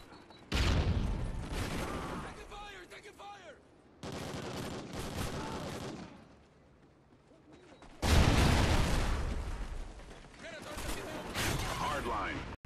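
Video game battle gunfire: bursts of automatic rifle fire and booming shots come in long, dense stretches, loud and close, with quiet gaps between them and voices talking over the shooting.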